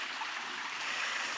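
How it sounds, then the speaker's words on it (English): A babbling brook flows down in a wooded combe on a countryside walk near Weacombe, a steady close hiss of running water with no voices. "I can hear the babbling brook"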